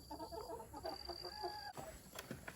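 A small flock of hens with a rooster cluck softly in a run, giving short, scattered clucks and murmurs at close range with no talking.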